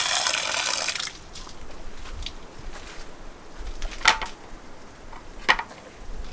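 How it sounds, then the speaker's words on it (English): Water gushes briefly out of a container of dwarf hairgrass on an emersed aquatic plant farm, then a few close, clear drips and trickles follow in quiet. "Right now it's a bit full of water, so I'll just pour some of it out."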